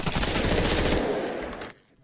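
Rapid bursts of loud gunfire, dense and continuous for over a second and a half, then abruptly cutting off into quiet.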